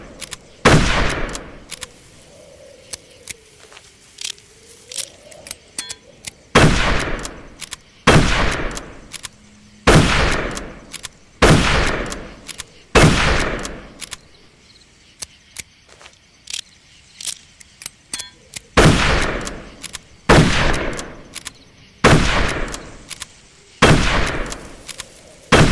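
Loud rifle gunshots in the video game Darkest of Days fire again and again at irregular intervals over about half a minute, each a sharp crack with a short decaying tail, up close and alone with no talk.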